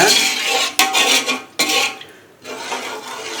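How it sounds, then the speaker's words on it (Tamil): A utensil stirs rice and water in a metal cooking pot for prawn dum biryani, making close, loud scraping and rasping strokes broken by a few sharp knocks against the pot. "சேர்த்து சும்மா ஒரு கிளறி விட்டுடுங்க"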